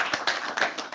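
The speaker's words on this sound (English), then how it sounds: "I think a huge round of applause to Michael for this amazing." An audience at a BI user group meeting claps for a presenter: a brief burst of several quick, fairly loud handclaps with no voices.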